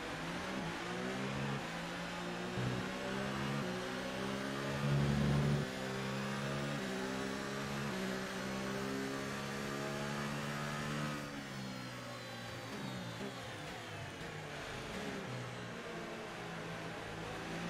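In the F1 2018 racing game, an F1 car engine holds a high, steady whine with rising and falling revs and a brief lower burst midway, moderately loud and continuous without any talk.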